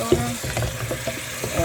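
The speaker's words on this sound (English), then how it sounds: "I'm stirring the baking soda in the bottom." Baking soda being stirred in water at the bottom of a container, giving a soft, continuous swishing and scraping with light clinks, close and moderately loud with no talking.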